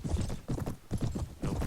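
Horse hooves clip-clop in a battle in the Mount & Blade game, Prophesy of Pendor mod, a steady galloping rhythm of close, loud hoofbeats in repeated bursts with no talk over them.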